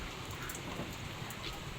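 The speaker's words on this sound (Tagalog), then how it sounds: "Naambon-ambon po siya." Light drizzle falls outdoors in a rural barangay on a cool, breezy day, a soft, steady hiss of fine rain that holds even throughout with no voices.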